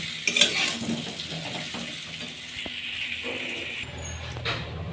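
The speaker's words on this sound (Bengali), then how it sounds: "এখানে আলু ভাজা হচ্ছে।" Potatoes fry in a hot oiled pan at home, giving a steady close sizzle broken by scraping stirs and light clinks of a utensil against the metal.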